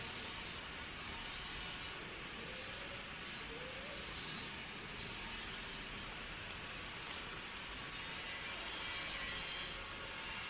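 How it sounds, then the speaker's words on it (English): Grinding while cutting foils for a planar magnetic bass woofer made from scrap steel gives a steady, faint, hissing and scraping whir. It holds continuously with slight swells, with no voices. "Nice grinding noises."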